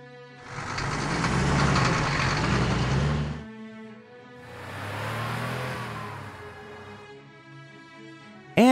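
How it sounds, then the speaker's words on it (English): A large vehicle's engine roars loudly, eases off, then swells again in a second, softer rumble before settling into a steady idle. "Fire truck."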